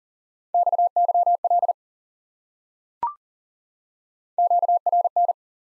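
Clear Morse code beeps at one pitch spelling WIFE, two quick groups of dots and dashes separated by a pause and a single short click, with no other sound.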